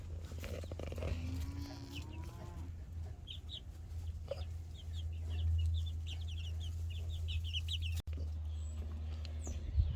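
Chickens cluck in scattered bursts over a steady low hum, with occasional higher calls and a sharp knock near the end.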